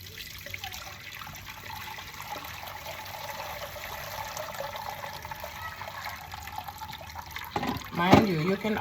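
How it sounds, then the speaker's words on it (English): Coconut juice is strained through a strainer into a container, with a steady liquid trickle and pour running under a spoken voice, growing louder with a burst of splashing near the end. "So now we're going to go ahead and strain the coconut juice into our next container, right?"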